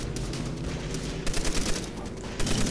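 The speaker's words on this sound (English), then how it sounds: "I'll take the friggin' piece of crap machine gun." Rapid automatic fire from a machine gun in the World War II shooter Call of Duty: World at War, sounding as a dense, continuous rattle of bursts with louder pulsing shots toward the end, with no talking.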